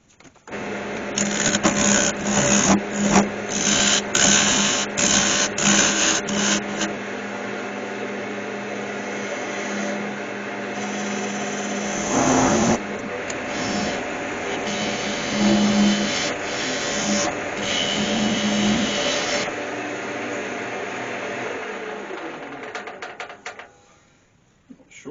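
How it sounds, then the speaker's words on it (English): Wood lathe hollowing a natural edge oak vase, a gritty continuous scraping and rushing whir as the tool cuts into the spinning blank, with stuttering chatter early on before it winds down near the end. "Let's turn some wood."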